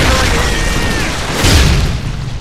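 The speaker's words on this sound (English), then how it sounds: "Predator missile inbound." A Predator missile explodes in Call of Duty Modern Warfare 3 multiplayer, a deep booming blast rising midway through dense, continuous game noise.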